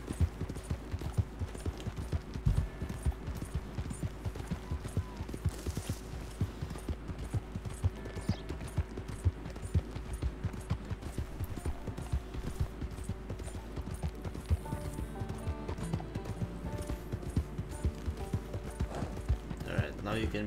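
A horse gallops in Red Dead Redemption 2, a steady rapid clip-clop of hooves running throughout at moderate volume, with game sounds and a voice talking over it.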